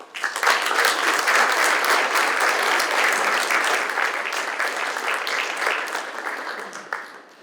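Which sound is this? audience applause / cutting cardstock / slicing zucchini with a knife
audience applause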